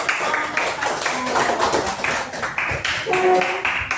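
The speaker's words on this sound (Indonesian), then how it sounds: "Tepuk tangan dulu." Students in a classroom clap in short, rhythmic bursts at a lesson's close, with close, sharp handclaps repeating in a patterned beat and faint voices mixed in.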